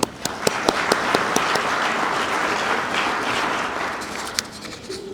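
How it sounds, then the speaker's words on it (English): An audience at an economic development annual meeting breaks into applause, opening with a few sharp, distinct claps that quickly swell into steady, dense clapping lasting throughout. "let's get a round of applause for all elected officials."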